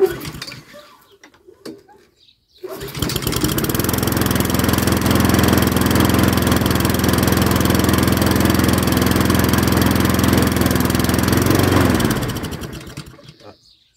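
A Honda GCV135 lawn mower engine is pull-started after some faint handling noises, catching at once into a loud, steady running drone that holds for about nine seconds before winding down.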